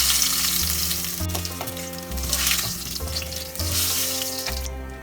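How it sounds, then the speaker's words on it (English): Eggs frying in a pan for Bengali egg curry, a steady close sizzle and crackle with occasional stirring or scraping, no talking. "Fry them on both sides till they turn golden."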